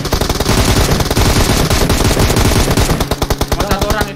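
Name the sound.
gunfire in video game PUBG Mobile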